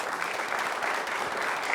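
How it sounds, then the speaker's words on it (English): Steady, dense applause from a crowd at a high school quiz match, continuous clapping with no breaks throughout. "Can we have a round of applause for both teams?"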